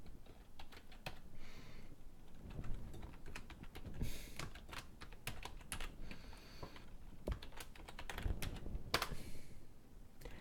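Fast, uneven clatter of keys on a computer keyboard, close and fairly quiet, with bursts of rapid keystrokes and short pauses.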